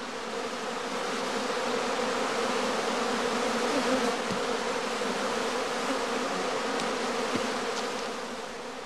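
Honey bees swarming around a heather skep in an apiary during swarming season, a dense, continuous buzzing hum of many insects close by, steady throughout with no voices.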